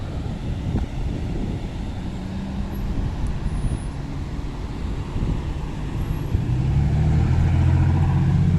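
Continuous low road traffic rumble slowed past a three-car crash, with engines idling and passing, growing heavier toward the end; no voices.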